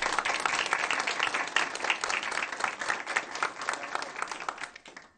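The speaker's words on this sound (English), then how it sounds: "let's give them a round of applause" Audience applause at a school board meeting, a dense, steady round of clapping from a roomful of people lasting several seconds before tapering off at the end.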